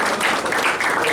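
Brief burst of steady audience applause at a university White Coat Ceremony in Dominica, for the Minister of Education, dense and continuous throughout.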